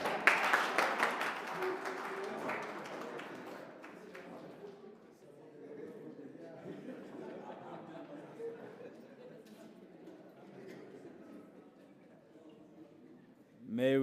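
Audience applause at a petroleum policy consultation meeting in Otjiwarongo, a crowd clapping loudly at first then fading into murmuring chatter and a voice speaking, with a burst of sound returning at the end.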